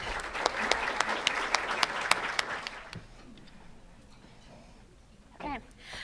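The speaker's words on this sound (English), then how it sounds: "Please give a round of applause for this year's Class Graduate Assistant / Intern of the Year" Audience applause at a university awards ceremony, starting as loud sustained clapping with sharp individual claps, then fading to quiet room tone before a brief voice near the end.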